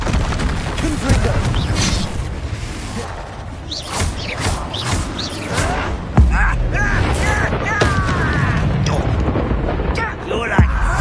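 Confringo explosion spell in Hogwarts Legacy, cast during combat: booming blasts and bursts under battle effects and a voice, with sharp impacts around six and ten and a half seconds.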